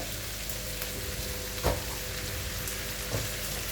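Washed raw rice stir-fried with Chinese sausage in a pan gives a continuous, loud frying hiss, with a couple of brief scraping clacks as it is stirred.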